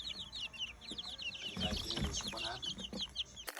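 Young chickens clucking and peeping in a coop, a busy overlapping chorus of short calls with a louder burst of fowl noise midway, close and continuous.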